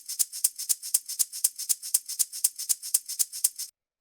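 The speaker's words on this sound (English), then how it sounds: "After that we have the shaker," Short house-track shaker sample repeating in a steady, even rhythm, about sixteen crisp bright hits with a soft swing, close and dry, then stopping abruptly.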